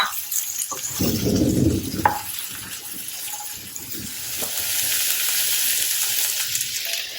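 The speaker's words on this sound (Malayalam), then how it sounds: "ഇതിലേക്ക് ഉള്ളി, ടൊമാറ്റോ ഇട്ട് നല്ലതായിട്ട് വഴറ്റി വേവിച്ചെടുക്കാം." Chopped onion and tomato sizzle and fry in a hot pan for butter chicken, a bright steady crackle with a louder burst of sizzling early on as the vegetables hit the oil.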